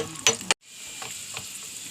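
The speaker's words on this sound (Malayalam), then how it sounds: "മുന്തിരി ഇടുന്നുണ്ട്, അതും കൂടി ഒരുമിച്ച് വറുത്തെടുക്കാം." Cashews and raisins frying in oil for chicken biryani, a short burst of stirring scrapes and sizzle, then a brief gap and a softer steady hiss of frying.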